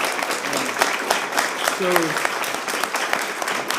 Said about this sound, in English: let's give this nice woman a round of applause.